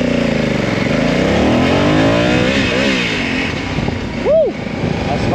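Honda Africa Twin 2022 motorcycle accelerating on a road in Sicily with the front wheel lifting slightly, engine pitch rising and falling through the gears under a steady wind rush, with a rider talking throughout.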